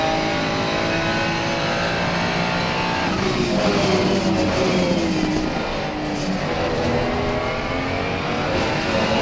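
A Ferrari 296 GT3 race car engine roars continuously in a racing video game at night on the Valencia circuit, loud and close, with rising and falling revs through gear changes and corners.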